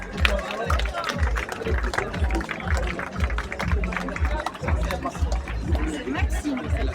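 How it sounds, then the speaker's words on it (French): Audience applause at the opening of a venue, a busy mix of clapping, cheering and chatter from a crowd, with heavy low thumps and voices running through it. "on va leur faire un tonnerre d'applaudissements"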